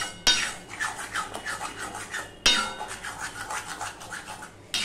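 A spatula scraping and clinking against a kadai while ridge gourd curry is stirred, two sharp knocks followed by rhythmic scratchy strokes at close range.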